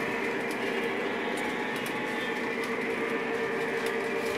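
A Lionel model train runs on its track with a steady, even mechanical rumble and hum, plus faint regular clicks of wheels over rail joints, with no voices.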